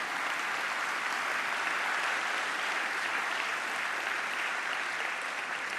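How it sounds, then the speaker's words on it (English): A large audience at the opening session of a scientific conference gives steady, sustained applause, a dense even wash of clapping with no break. "Will you please join me in a round of applause"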